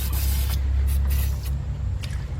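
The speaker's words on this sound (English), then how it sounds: "you want to spray them up a little bit" Bursts of aerosol lubricant spray onto engine bolts of a Chevy Equinox during a head gasket job, hissing in several short blasts over a low steady hum, close by and loud.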